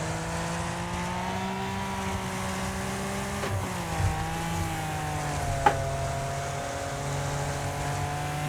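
A race car engine in the Wreckfest video game holds a loud, sustained drone, its pitch dipping and recovering around a downshift, with brief knocks mixed in and no voices.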